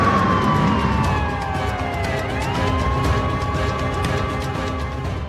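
A wailing ambulance siren sweeps up and down continuously, loud and close, over steady traffic noise, with no talking.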